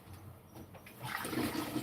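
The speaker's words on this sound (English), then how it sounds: "I'm putting 3 litres of water into this machine as we speak." Water is poured into an opal tumbling machine, a splashing, gurgling rush that starts quiet and swells louder midway, close by and without voices.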